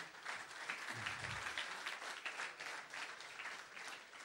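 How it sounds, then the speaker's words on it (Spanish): Audience at a political congress applauding, a faint but continuous patter of many hands heard from a distance, steady across the few seconds. "Hace un aplauso."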